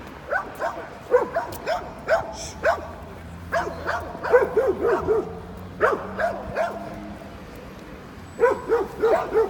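Street dogs bark repeatedly in clustered volleys in Sofia city centre, nearby and insistent, with pauses between bursts and faint background noise.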